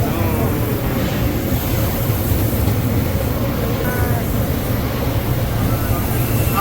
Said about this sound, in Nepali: बुसान जाने ट्रेन पनि आयो।